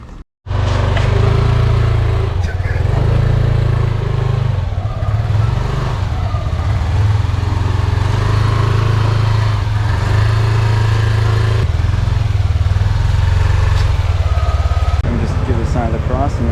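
A motorcycle engine running steadily and loudly at low pitch as the rider sets off on a road trip to an abandoned palace in Baturiti, Bali, with people talking over it throughout.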